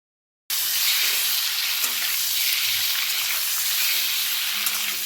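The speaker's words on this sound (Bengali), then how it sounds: "ডিমগুলো হালকা ভেজে তুলে রেখে দেবো একটি পাত্রে" Pre-boiled eggs frying lightly in hot oil for an egg and cauliflower curry, giving a steady, close sizzle that holds evenly after a brief silent start, with a few faint utensil touches and no talk.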